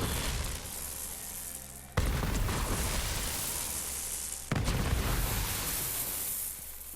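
Grenade blasts in the video game Borderlands 3 hit as three loud, broadband bursts, each landing abruptly and then trailing into a sustained roar and crackle of shock-element energy.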